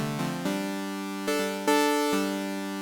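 Synth bass from Ableton's Analog instrument with two oscillators tuned a perfect fifth apart: a few sustained, buzzy held notes changing pitch in steps, bright and harmonically rich, alone and moderately quiet.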